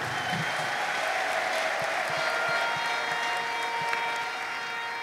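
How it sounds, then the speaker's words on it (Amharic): Congregation clapping in worship, a continuous, fairly even wash of applause with faint tonal music beneath it. "በዚህ ደስታ ከተካፈላችሁ አጨብጭቡ ለጌታ ክብር"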